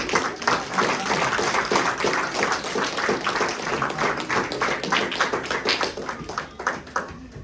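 A church congregation claps hands for the Lord during a Sunday service, with a loud, steady, rhythmic patter of many palms running throughout and a few voices faintly underneath.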